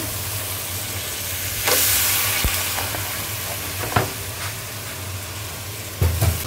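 Meat braises with spices in a pan, giving off a steady, loud sizzle and hiss, punctuated by a few sharp clicks and scrapes of stirring, with no talking.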